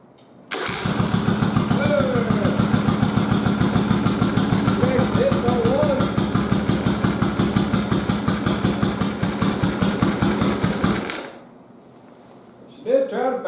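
A Yamaha Virago motorcycle that had sat unused for many years cranked by its starter, a loud, fast, even chugging that runs about ten seconds, stops, then a brief catch, close up, with no clear talk.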